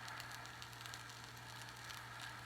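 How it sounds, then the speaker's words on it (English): Reheating pizza in a pan gives off faint, scattered crackles and sizzling pops over a steady low hum, quiet and close. "I can hear it cooking a little bit. I can hear some crackling."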